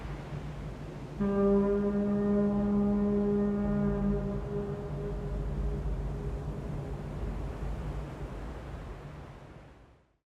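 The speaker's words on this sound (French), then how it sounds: "l'on entend un bateau au loin signalant la fin de ce jeu" A deep, steady ship horn sounds from afar in the video game Little Nightmares, sustaining for several seconds over a wash of surf-like ambient noise before fading out.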